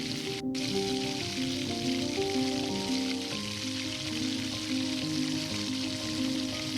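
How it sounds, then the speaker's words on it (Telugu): Onions and cashews fry in hot oil, giving a continuous crackling sizzle under soft background music, with one brief sharp click near the start. "అవి కొద్దిగా వేయించుకున్న తర్వాత ఆనియన్స్ వేసుకొని వేయించుకుందాము"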